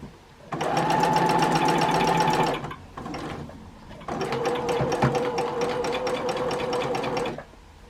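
A sewing machine free-motion quilting a Dresden plate stitches rapidly in two bursts, the motor whirring steadily and close, with a short pause between runs and a slightly different tone in the second as it moves onto plain fabric.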